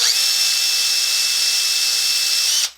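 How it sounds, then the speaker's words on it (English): A power drill fitted with a 1/16 inch bit bores into a wooden electric guitar neck, giving a steady, loud high-pitched whine that holds for a couple of seconds before spinning down abruptly, with no talking. "I'm just using a 1/16 inch drill bit."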